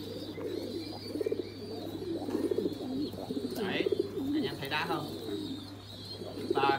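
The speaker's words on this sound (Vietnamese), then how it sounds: "Đây là những cặp chim bồ câu thổi kèn anh em." Trumpeter pigeons at a pigeon farm cooing in soft, repeated rolling phrases close by, several birds overlapping, with a low steady hum beneath and faint talk in the background.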